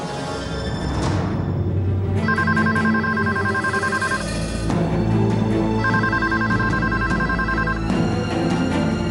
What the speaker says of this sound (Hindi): कल्पी, किसका फोन है?